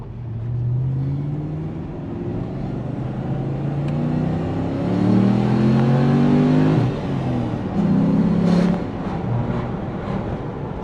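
A 2014 two-wheel-drive Toyota Hilux with a swapped 6-litre LS2 V8 accelerates hard, its engine note rising through gears in repeated sweeping revs with a loud, close, throaty rumble.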